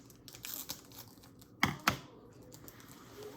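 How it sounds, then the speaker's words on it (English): Scissors cutting through a Pokémon card pack, heard as a few sharp crinkling snips and two louder distinct cuts in the middle, close and fairly quiet, with light rustling in between. "now we got the scissors. Let's cut up."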